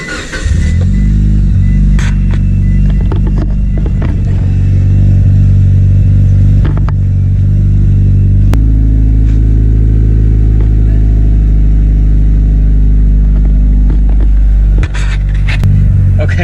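A Mitsubishi Lancer Evo 9 engine idles loud and close, holding a deep, steady rumble, then shifts to a fuller, heavier tone partway through as the car pulls out; there is no talking.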